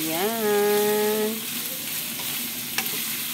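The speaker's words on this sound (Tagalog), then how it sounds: "Halo-haluin po natin ang ampalaya." Bitter gourd and egg being stirred in a hot frying pan, a steady close sizzle with scraping of the utensil, opened by a brief harmonic squeak.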